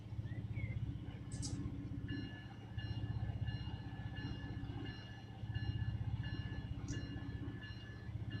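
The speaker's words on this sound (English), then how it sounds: "here comes a Autorack train come blazing by them" An autorack freight train rolls past on a single track in the Run 8 train simulator, a steady rumbling drone of wheels and cars with rhythmic clatter and a couple of brief high squeals, no talk.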